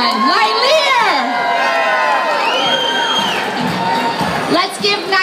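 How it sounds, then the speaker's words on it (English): An awards ceremony audience cheers and whoops loudly as a crowd, with shouting voices carrying over the noise and a burst of applause near the end. "Let's give Nilear a round of applause."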